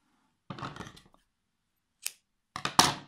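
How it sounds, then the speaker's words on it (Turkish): Scissors cut crochet yarn in three quick separate snips, close and crisp against silence. "Ben şu boyda kesiyorum bakınız."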